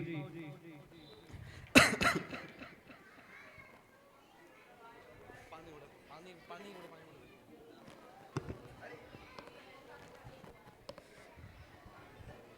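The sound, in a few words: coughing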